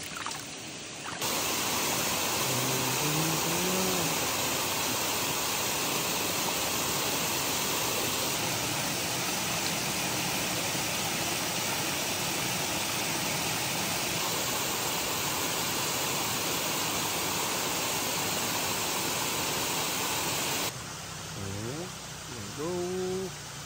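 Water rushes steadily inside Liyang Cave in Sorsogon, a loud constant broadband flow that fills the whole stretch, with voices talking faintly at the start and end.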